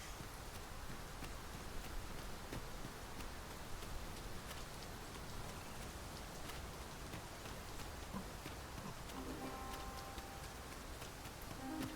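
Heavy rain pours steadily in Dragon's Dogma II, a dense, unbroken hiss of drops falling on surfaces throughout, fairly quiet and with no voices over it.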